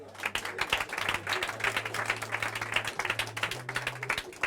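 A church congregation claps and cheers to acclaim Jesus during a worship service: steady, dense applause from many hands over a low sustained instrumental drone, with faint voices mixed in.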